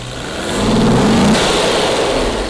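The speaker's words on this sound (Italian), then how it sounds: "vediamo se accelera" A Mercedes 280 CE with an acceleration fault revs up from idle, the engine swelling in a loud, steady drone close by that holds briefly and then sags slightly, with no voices over it.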